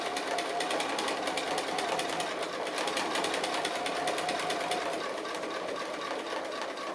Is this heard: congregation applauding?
no